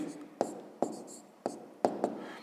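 Pen scratching numbers onto paper while working a fifth-grade maths exercise, soft repeated strokes and taps close to the microphone, fairly quiet and under light background hiss.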